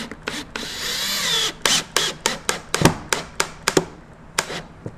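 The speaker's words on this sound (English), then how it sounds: "And then I'm going to get some screws put in." A power drill drives screws through scrap wood behind a drywall patch: one long whirring run, then a string of short, sharp, evenly spaced bursts, close and loud, with no talking.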